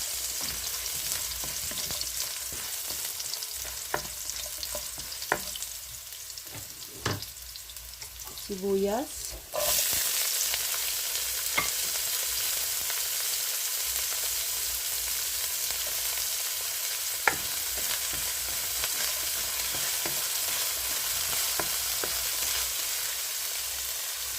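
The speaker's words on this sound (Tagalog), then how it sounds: "gisa-gisa ko lang itong sibuyas, bawang, at saka luya" Onion, garlic and ginger sauté in a pan, a steady bright sizzle running throughout with scattered scrapes and stirring knocks, louder and denser after the first ten seconds.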